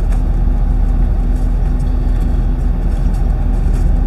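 A 2023 Ford Super Duty pickup backs itself toward a trailer coupler, its engine giving a steady, close, low rumble with faint ticking above, and no talk.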